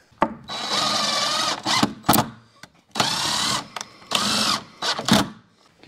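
A power drill drives a screw into a wooden workbench top in a few sustained whirring bursts, with short pauses and brief tool clicks between them, close and loud.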